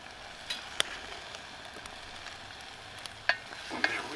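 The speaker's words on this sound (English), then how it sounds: "The chili and the ginger garlic paste needs to go down in here and get a little bit of scorch going on" Chili and ginger garlic paste scorch in a stir fry pan over a Bush Box XL stove, a soft steady sizzle broken by several sharp metallic clicks and scrapes from stirring, fairly quiet and close.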